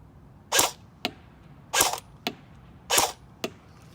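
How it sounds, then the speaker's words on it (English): Kalashnikov AK-47 airsoft rifle firing test shots outdoors: three sharp cracks, each followed by a quieter snap, at an even pace and close by. "I'm gonna shoot some more just so you see."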